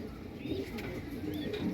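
A red Madrasi pigeon, a female, coos softly in a small cage, giving low, faint murmuring coos under light background noise.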